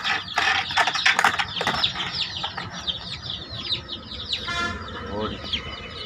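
Farm chickens cluck and chirp in a steady, overlapping run of short calls, with a person talking alongside them.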